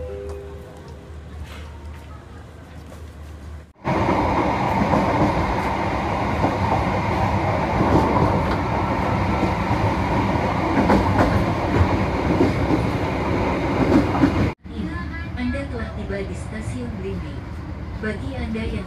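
Penataran commuter line train between Surabaya and Blitar via Malang, a steady loud interior rumble of running rail wheels with clatter, bracketed by quieter stretches where a recorded announcement voice speaks.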